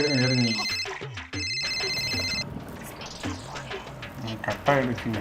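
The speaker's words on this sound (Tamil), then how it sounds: "அவன் தானே போன் அடிக்கிறான் அட்டன் பண்ணு" A telephone ringtone trills in short repeated bursts near the start, cutting off abruptly, with people talking over and after it in a domestic setting.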